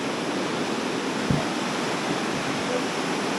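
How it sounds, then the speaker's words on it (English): Mountain stream on a hike near Khinaliq village in Azerbaijan, with water rushing in a dense, even hiss that holds steady and fairly loud, broken only by a faint thump. "You can see the water flowing there."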